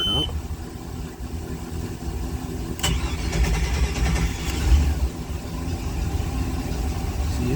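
A Ford-powered MerCruiser boat engine cranks and fires, settling into a steady rumbling idle with slight rises in revs, while someone talks over it.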